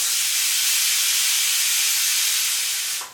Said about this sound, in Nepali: ल अब मेरो यो कुकरमा 2 सिटी लागिसक्यो।